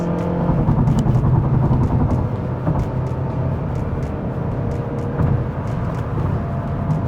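A Mazda CX-5's 2.5-litre naturally aspirated engine revs loudly up close, its pitch climbing and falling through repeated surges with sharp shift blips.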